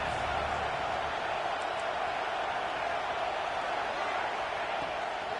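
A steady, dense stadium crowd roar from a USC versus Oregon college football video game, holding an even loudness throughout without clear peaks.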